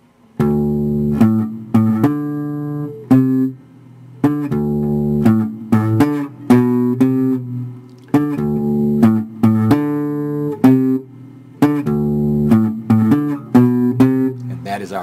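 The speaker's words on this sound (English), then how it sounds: "Our bass line right there." Electric bass plays a bass line alone, with clear plucked notes in a repeating syncopated phrase, loud and close, with short gaps between groups of notes.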